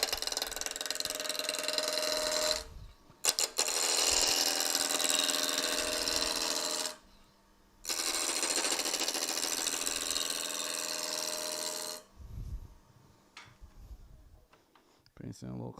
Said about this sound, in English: this is spindle turning. The end grain's on the two ends, so you can use a roughing gouge.